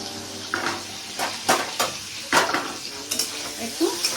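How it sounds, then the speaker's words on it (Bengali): Paneer cubes frying in hot oil in a kadhai, with intermittent sizzling bursts and scraping stirs of a utensil against the pan, close and moderately loud. "তাহলে আমার পনিরগুলি ভেজে নিলাম একটু।"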